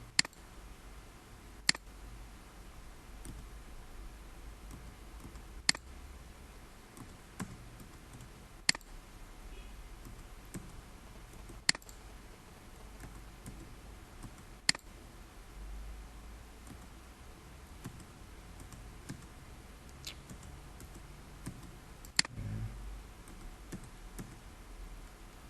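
A computer mouse gives single crisp clicks at irregular intervals of a few seconds while lines are traced, each one sharp against a quiet room hum.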